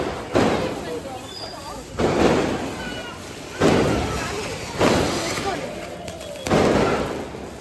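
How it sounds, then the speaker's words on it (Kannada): A seven-shot firework set off during Deepavali festivities, firing five loud booming blasts at roughly regular intervals, each followed by a decaying crackle and rumble, nearby and outdoors. "ಇವಾಗ ನಮ್ಮ ಸಚಿವರು 7 ಶಾಟ್ಸ್ ಹಚ್ತಿದ್ದಾರೆ. ಸಚಿನ್ ಗೌಡ್ರು"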